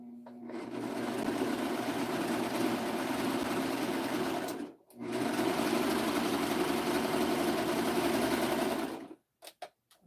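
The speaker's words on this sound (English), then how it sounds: "I'm going to go in here and serge up the edges of my pocket so it won't ravel so bad" A serger sewing machine overlocks the edges of a fabric pocket, running as a loud, steady close-up whir in two long bursts with a brief pause between, then stopping with a few short clicks.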